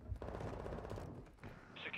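Rapid automatic gunfire in the video game Call of Duty, a dense burst of close shots that thins out, then briefly picks up again.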